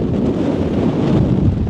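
Gusts of strong wind on a small mountain near Las Vegas batter the microphone with a steady, heavy, low-pitched rush, loud and unbroken, with no voices.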